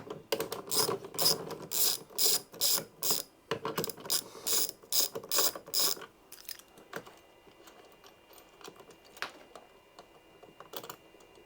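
A ratchet wrench undoes the cable fastenings on a power-in unit, giving quick, loud bursts of close clicking in a steady rhythm for about six seconds before fading into quiet handling noises.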